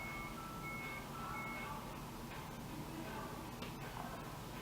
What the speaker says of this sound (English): every time you decide to film, there's trucks backing up